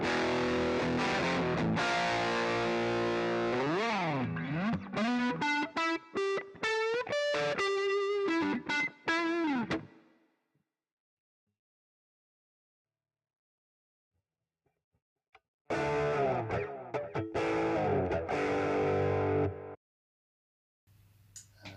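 Electric guitar played through a Zoom G1 Four multi-effects pedal on its MS High Gain preset, with heavily distorted, reverb-soaked chords and bending single-note lines, then a pause of silence before more saturated chords ring out.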